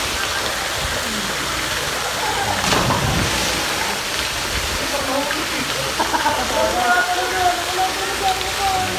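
Water pours down like a shower onto small children at an outdoor resort, a loud steady splashing wash heard close up, with people talking and calling out over it.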